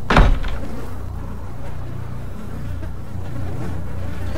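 Flies buzz steadily in the abandoned-hotel horror game Wounded, a constant droning hum that carries on through the clip after a short, louder knock at the start.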